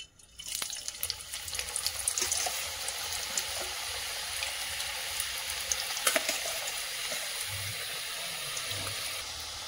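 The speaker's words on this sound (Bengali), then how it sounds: "আমরা এবার দ্বিতীয়বার আলুগুলোকে ফুল ফ্রাই করে নেব।" Potato french fries in their second deep fry, sizzling steadily in hot oil with a dense, continuous hiss and scattered crackling pops throughout.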